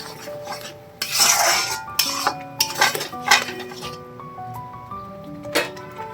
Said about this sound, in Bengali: দেখো এবার এটা খুব ভালো করে নাড়তে হবে।